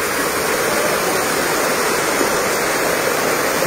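Floodwater rushes down off a mountainside toward a market area, a loud, steady, broadband roar of churning water that stays constant throughout with no pauses.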